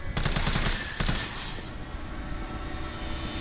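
Gunfire in the video game Resident Evil 3 sounds as a loud, rapid burst of close automatic shots, then a second short volley, followed by lingering rumbling game noise.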